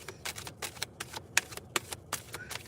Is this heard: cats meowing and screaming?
no